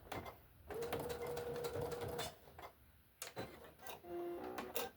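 A home sewing machine stitching through fabric, its motor whining steadily in two close, fairly loud bursts separated by a brief pause, with no talking.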